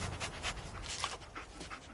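A dog in the video game Fallout 4 pants in quick, rhythmic breaths, close and steady for about two seconds, with no talking.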